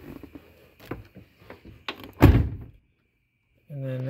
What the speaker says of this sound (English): So let me get the door closed.